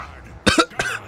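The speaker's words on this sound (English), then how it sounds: "I made myself cough." Two sharp coughs in quick succession, close to the microphone, then a short throaty follow-up.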